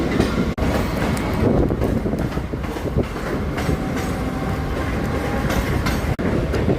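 Mumbai local slow train rolling along the tracks from CSMT toward Vashi, with a loud, continuous rumble and rattle of the carriage, wheel clatter and occasional squeals, heard from inside.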